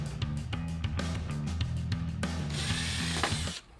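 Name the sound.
power drill running on a door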